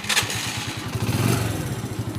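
A 50cc scrambler motorcycle engine starts up, then settles into a close, loud, rhythmic low thudding that continues steadily to the end.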